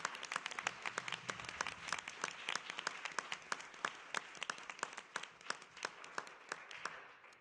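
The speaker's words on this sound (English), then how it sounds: "please give her one more round of applause" Audience applause honoring a laureate at the 2014 Brock Prize Symposium: a sustained, dense round of clapping from a sizable crowd in a hall, steady and moderately distant for several seconds before tapering off at the end.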